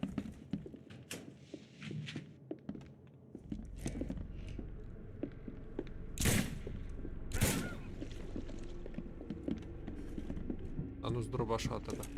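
Two sharp, loud gunshots ring out a second apart in The Sinking City video game, amid a busy mix of clicks, thuds and a low talking voice.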